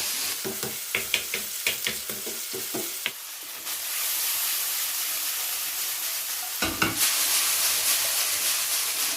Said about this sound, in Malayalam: നന്നായിട്ടൊന്ന് ഇളക്കുക.